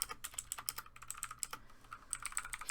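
Rapid, uneven keystrokes clatter on a computer keyboard in short bursts with brief pauses, close and fairly quiet, with no voices.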